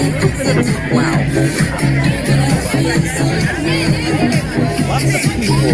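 Crowd at a New Year dance party at Epcot's China pavilion, with steady chatter and babble from many people over pulsing music, close and continuous.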